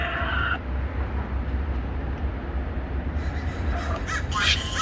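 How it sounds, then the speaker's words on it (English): Loud, steady outdoor rumble with a brief squawk at the start and a cluster of harsh crow caws near the end. "It's a bunch of crows."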